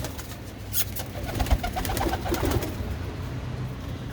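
Pigeons in a fancier's loft coo close by, with soft throaty calls repeating over a low background and the rustle of birds moving about.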